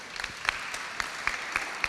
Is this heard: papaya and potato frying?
no